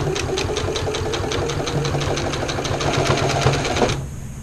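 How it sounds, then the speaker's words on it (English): A sewing machine stitches a soup bowl cozy, running at a steady, fast, even rhythm of needle strokes close by for several seconds before stopping abruptly, with no talk. "I'm going to look at my mark that I have there, and sew. I'm going to start really slow."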